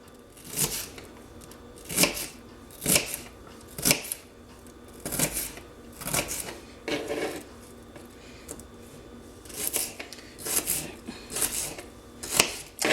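A whole onion chopped on a cutting board with a knife, a series of crisp, close knocks and slicing strokes coming in uneven bursts roughly every second, with no talking.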